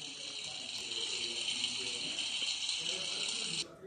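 Steady hiss of shower water running in Roblox Bloxburg, a continuous bright spray that holds evenly for several seconds and then cuts off abruptly near the end.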